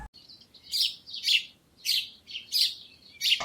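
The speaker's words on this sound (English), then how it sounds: "sparrow" A sparrow chirps in a steady series of high, bright tweets, about seven calls in quick succession, clear and alone over a faint low background.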